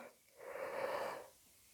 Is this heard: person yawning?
yes